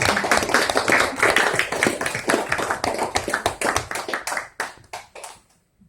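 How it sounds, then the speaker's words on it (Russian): A hall erupts in vigorous applause at an award ceremony where a commemorative badge is presented. Dense, sustained clapping gradually loosens into separate claps before stopping. "Бурные аплодисменты."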